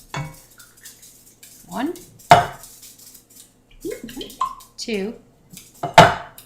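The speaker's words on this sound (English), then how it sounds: "I will place each of the tomato cans into a pot" Metal tomato cans set one at a time into a cooking pot for homemade Italian tomato sauce, two sharp clanks ringing out amid a voice counting aloud.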